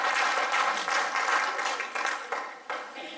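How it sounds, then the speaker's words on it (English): A church congregation claps in praise as people sit down, a dense burst of hand claps that swells and then thins out over a few seconds, with scattered louder claps near the end. "You've got a hand clap of praise as you're sitting down."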